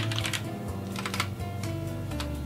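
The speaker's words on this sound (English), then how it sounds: "Still getting used to this new keyboard" Keys clatter in quick, uneven bursts on a new computer keyboard while entering account registration details, close and moderately quiet with a steady low hum underneath and no voices.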